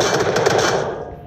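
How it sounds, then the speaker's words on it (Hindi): Gunfire in the mobile battle royale game BGMI, a short rattling burst of automatic shots fairly close, trailing off quickly. "बंदे ने सीधे गोली चलाना स्टार्ट कर दी।"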